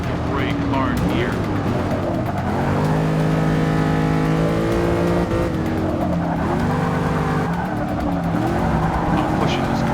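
A race car in the Forza 6 Apex driving game brakes hard from about 121 mph, its engine note dropping through gears with tire squeal, loud and close, while a voice talks over the gameplay.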